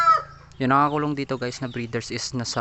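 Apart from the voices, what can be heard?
Rhode Island Red chickens clucking in breeder pen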